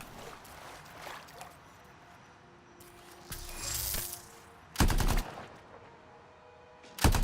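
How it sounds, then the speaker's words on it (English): Enemy gunfire in the shooter video game Anthem, including an outlaw turret: scattered bursts of shots and impacts, with louder close volleys near the middle and end over a low ambient game backdrop. "I'm being shot at."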